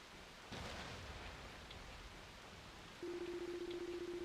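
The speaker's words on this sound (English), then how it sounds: "Only the sound of the falling rain and constant thunderclaps could be heard echoing throughout the darkness." Steady falling rain hisses through a dark night scene in the Ys: Memories of Celceta video game, with a soft rumble of thunder early on and a constant low hum joining later, all faint.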